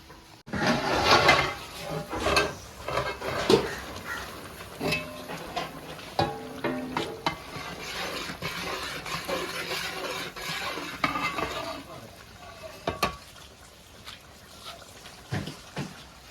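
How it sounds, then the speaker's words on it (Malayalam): Onion and tomato gravy for fish curry simmers in a pan while a utensil stirs and scrapes it in irregular clinks and rubs, with soft bubbling underneath, near and moderately quiet. "ഇത് നല്ല കടന്ന് തിളച്ചിട്ടേ ഈ സബോളയും തക്കാളിയും എല്ലാം പാടെ നല്ല വേവട്ടെ നല്ല പേസ്റ്റ് ആവട്ടെ"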